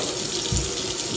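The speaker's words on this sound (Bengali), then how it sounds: "আমি সাথে সাথে সব জিনিসপত্র ধুয়ে ফেলি" Tap water running into a kitchen sink while dishes and cooking things are rinsed, a soft continuous splash heard fairly close and quiet for a brief moment.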